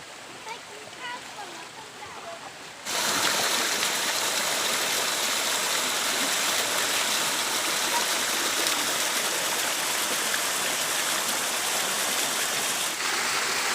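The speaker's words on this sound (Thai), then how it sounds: "น้ำตกสันตะเถนชั้นหนึ่งครับ" The first tier of Chantathen waterfall pours steadily, a dense close rush of water that swells loud after a few seconds of quieter ambience and crowd voices, with talk faint underneath.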